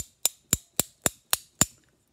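A pot-metal aluminum-alloy tremolo block from a Squier Stratocaster is tapped six times in an even rhythm, each strike a short, dull, close knock that dies away quickly, with silence between.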